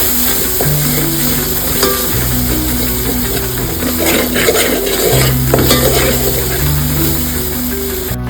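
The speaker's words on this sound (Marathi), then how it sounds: "तेल सुटेपर्यंत आपल्याला मसाला छान भाजून घ्यायचा." Masala spiced with turmeric and garam masala fries in oil for a spicy mutton curry with fresh cashews, a steady close sizzle with scraping stirs and a low tonal hum underneath, no talk.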